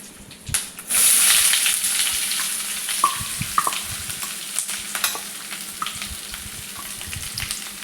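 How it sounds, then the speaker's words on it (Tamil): Onions sautéing in hot oil with curry leaves, bay leaf and dried chillies for a paneer gravy: a steady bright sizzle that jumps up after a soft start, broken by scraping stirs and faint clinks, with no talk. "வெங்காயம் நல்லா கோல்டன் ப்ரௌன் வர வரையும் வதக்கிக்கணும்."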